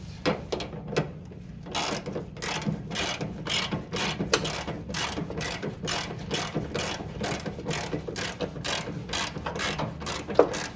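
Steady ratchet clicking while parts are tightened on a 1964 Chevrolet Biscayne, a fast, regular run of sharp clicks over a low background hum, close and continuous.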